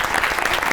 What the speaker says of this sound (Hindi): अरे कहाँ है आपकी तालियां?